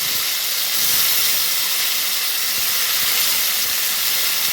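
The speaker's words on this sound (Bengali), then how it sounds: "বন্ধুরা এই তেলের মধ্যে টমেটো দেওয়া হয়ে গেল।" Tomatoes sizzling in hot oil in a pan after frying potatoes, a loud continuous hissing spray of frying, close up and alone, with no talk.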